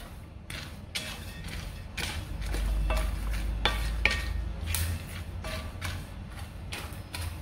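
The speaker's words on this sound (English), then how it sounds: "Just continue to stir low heat." Soybeans being stirred in a pan over low heat, with repeated scraping and rattling strokes of a utensil against the pan at a steady rhythm, close and clear over a low background hum.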